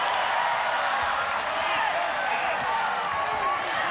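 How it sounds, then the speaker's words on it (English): Loud, roaring crowd at a ONE Championship women's MMA bout between Tiffany Teo and Meng Bo, cheering steadily throughout as knees land in a ground exchange, a dense continuous wash of arena noise. "This crowd going nuts for Tiffany Teo every time she drives the knee into the face of Meng Bo"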